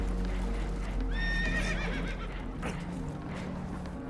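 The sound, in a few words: spooked horses whinnying in Red Dead Redemption 2 video game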